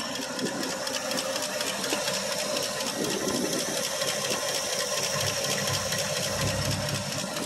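A 1965 Ford Fairlane 500's 289 V8 idles steadily after a cold start, rumbling continuously with a low throb and a faint rattling, mechanical chatter on top, running without pause throughout.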